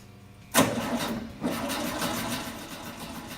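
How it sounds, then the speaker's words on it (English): A VW camper engine cranks and catches with a sudden burst, surges again a moment later, then settles into a steady running idle nearby. "we can try to start the engine"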